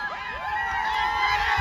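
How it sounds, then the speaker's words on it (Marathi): A crowd at a local cricket match in the Konkan erupts in cheers and shouts after a winning six hit with a reverse shot in the final over, a dense, steady roar of many voices with high whoops rising above it. "आणि जल्लोष बघू शकता तुम्ही"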